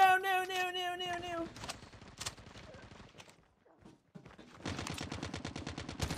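Video game gunfire heard as rapid bursts of shots, a tonal game sound at the start, then quieter clicks and a renewed stretch of fast automatic fire near the end.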